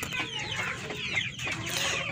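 Plymouth Rock heritage chickens cluck softly in a brief, continuous stretch of farmyard murmuring at close range.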